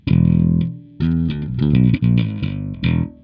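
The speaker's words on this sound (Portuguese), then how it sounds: "Então, ó, agora o drive e o harmonics estão atuando." Electric bass played through a Caline Wine Cellar preamp pedal with drive and harmonics engaged, giving a handful of loud distorted plucked notes in a short phrase, heard alone without talk.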